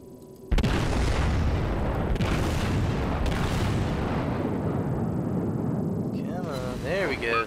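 Battleship shell hits and explosions in World of Warships, a sudden loud boom followed by a long rumbling roar with further heavy impacts, and a voice talking briefly near the end.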